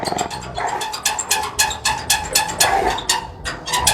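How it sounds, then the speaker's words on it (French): A dog barks rapidly and repeatedly at close range, a fast string of sharp, high barks with no other sounds. "Un temps, il aboie"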